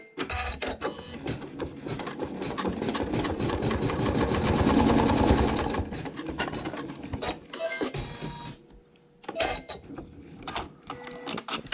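An embroidery machine stitches a tack-down on a quilt block, a dense, steady mechanical chatter that builds and then breaks into short, separate bursts of stitching with brief pauses between them, close and fairly loud, with no talking.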